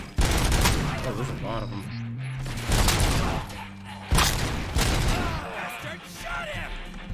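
Bursts of gunfire rattle through a Robocop video game firefight, loud rapid volleys repeating over several seconds while voices call out over the shooting.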